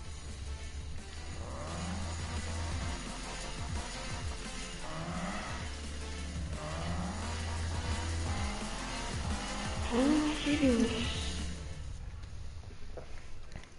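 Engine of a Nissan Skyline in a Need for Speed race, with steady revving, rising and falling pitch through gear changes, and a brief squeal near the end, loud and continuous with no talk.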